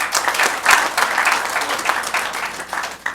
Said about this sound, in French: je vous demanderai de l'applaudir aussi